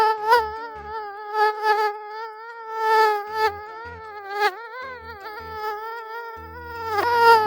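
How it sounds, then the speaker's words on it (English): High-pitched mosquito whine held close and steady, wavering slightly in pitch, with faint soft clicks and bumps underneath. "That's the sound of mosquito."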